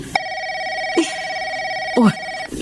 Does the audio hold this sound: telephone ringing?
yes